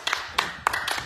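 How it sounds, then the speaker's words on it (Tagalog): A single person clapping, a handful of sharp, uneven claps spaced irregularly and fairly quiet, with faint background noise between them. "Ikaw lang pumapalakpak eh."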